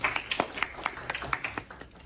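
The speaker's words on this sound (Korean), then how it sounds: "박수 좀 한번 쳐주세요." Students in a university lecture hall clap briefly, a short burst of distinct hand claps in quick succession that ends within about two seconds.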